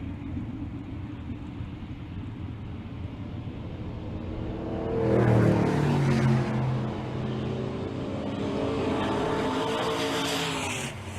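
A 2000 Chevrolet Silverado and a C10 truck drag racing at a large drag strip event, a distant engine rumble that swells loudly into a roaring launch and then fades as the trucks pull away.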